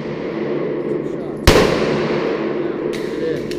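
One sharp, loud handgun shot at a private pistol training class cracks out midway, with its echo trailing off and faint clatter after, under an instructor's ongoing coaching voice.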